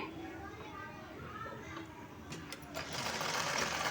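A sewing machine stitches a cloth hip belt, running its drawstring along the corner seam. The motor whirs steadily and close, with faint voices in the background, and grows louder and busier toward the end.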